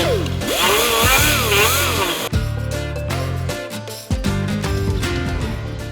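A power tool cuts through the plastic clips of a 2022 third-gen Toyota Tundra front bumper, giving a loud, steady whine that wavers in pitch and briefly dips and restarts twice.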